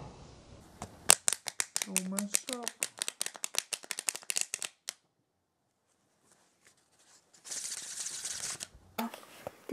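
A deck of playing cards is shuffled by hand at home, a rapid run of crisp riffling flutters followed by a pause and a second, denser burst, with voices talking over the cards.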